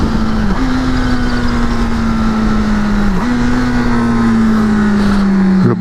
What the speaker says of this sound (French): Le gros frein moteur qu'on aime.